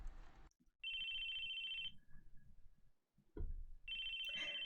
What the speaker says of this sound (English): It was the sound of a phone ringing, but whose?